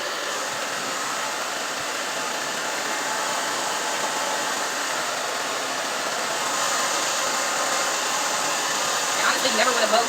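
A hair dryer blows steadily and loudly for the whole stretch, a continuous broadband whoosh with no pauses and no talk over it.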